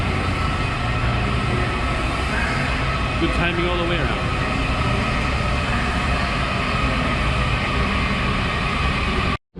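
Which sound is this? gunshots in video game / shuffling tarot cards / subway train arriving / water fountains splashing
subway train arriving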